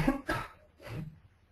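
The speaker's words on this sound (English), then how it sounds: "I'm getting cough." Two or three quick, dry coughs close to the microphone, short bursts separated by brief pauses.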